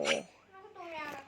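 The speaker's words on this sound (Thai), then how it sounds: "ผมรู้สึกว่าจะเป็นแมว" A cartoonish cat meows in a video game, two short mewing calls with rising and falling pitch, close and clear with a brief gap between them.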